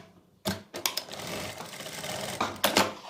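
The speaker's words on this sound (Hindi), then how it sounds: "अब हम इसके ऊपर रखेंगे कली। और यहां से सिलाई लगाना स्टार्ट कर देंगे।" A sewing machine stitches Patiala salwar panels, starting with a sharp clatter, then running in quick bursts and a steady whirring hum, ending with a couple of louder rattling spurts; close and fairly quiet, with no speech.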